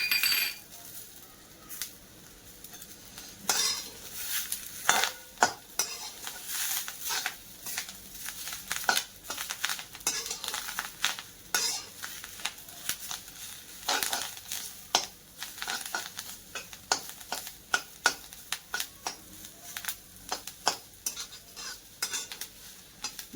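A spoon stirs and scrapes a spice paste roasting in a pan on the stove, with soft sizzling and frequent sharp clinks of metal against the pan, irregular and close up.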